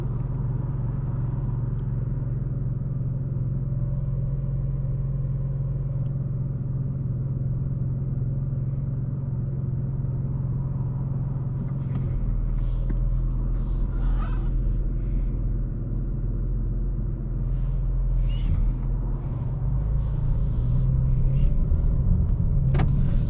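A 2025 BMW M4 CS driving at night, with a steady low engine drone and road rumble inside the car that shifts partway through as the revs change, plus faint clicks and taps from the cabin.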